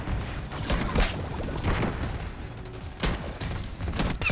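Gravemark .357 pistol firing in a video game, with several sharp shots spaced irregularly among busy in-game noise, close and fairly loud.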